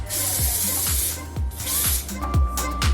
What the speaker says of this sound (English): I'm going to quickly spray some hairspray